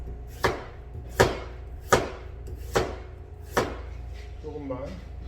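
A knife chops carrots on a board for kimchi, with five evenly spaced, sharp, close chops and a short pause after each, followed by a faint rustle at the end.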